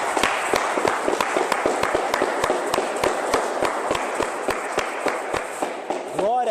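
Congregation at a church service clapping steadily and loudly in a brisk, even rhythm, with a voice rising briefly near the end.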